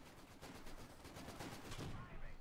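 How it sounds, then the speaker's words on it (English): Vickers machine gun firing in the video game Company of Heroes 2, a dense, continuous clatter of gunfire lasting throughout, with battle noise layered over it. "Just pressing the Vickers machine gun."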